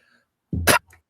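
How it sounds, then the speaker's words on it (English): A single short, sharp cough, close by, in an otherwise quiet moment. "Part of my cough."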